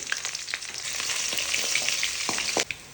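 Spices, dried red chillies, lentils and crushed garlic frying in sesame oil for an aloe vera tamarind curry, a steady close crackling sizzle with scattered pops and a short clatter near the end, no talking.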